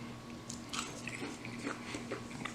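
Roasted sweet potatoes being eaten, soft close bites and chewing with light crunches repeating irregularly over a steady low background hum.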